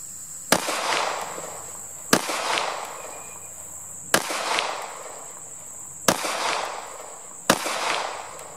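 Five sharp, loud CZ P10C pistol shots fired one at a time at a target 10 yards away, evenly spaced about two seconds apart, each with a short ringing decay and no talking.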